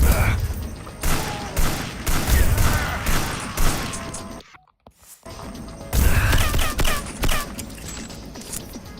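Gunfire in the Hitman Blood Money Reprisal video game, loud dense volleys of shots crackling in bursts, broken by a brief quiet gap midway before the firing resumes.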